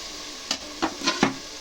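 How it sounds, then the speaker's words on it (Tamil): Food sautés in a pan, a quiet background sizzle broken by four short stirring scrapes spaced through the moment, close and alone with no talk. "நல்லா வதங்கட்டும்."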